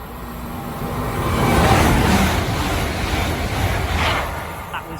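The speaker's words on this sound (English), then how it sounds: "Passing through now is a Great Western Railway service from Great Malvern to London Paddington" A Great Western Railway service from Great Malvern to London Paddington runs through Pangbourne station without stopping, a broad steady roar that swells to a peak near the middle and holds loud to the end.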